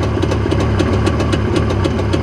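A Jawa motorcycle engine idles close up after starting, a continuous low rumble with regular mechanical ticking pulses about four times a second, steady and loud with no talk.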